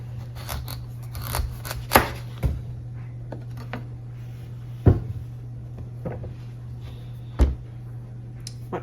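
A knife cuts into a raw rampicante squash, making a few sharp crunching clicks and taps at irregular intervals over a steady low electrical hum.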